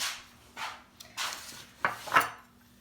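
Spoon scraping and clinking against a bowl while mixing a treat mixture, several close irregular strokes and taps.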